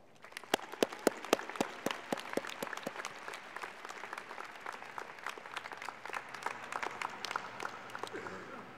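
Audience applause fills a graduation diploma and awards ceremony hall, a steady dense wash of many hands clapping with sharper individual claps near the start, continuing evenly throughout.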